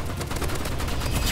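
Rapid assault rifle fire in the Roblox Rivals shooting game, a dense continuous burst of loud shots packed tightly together across the whole moment.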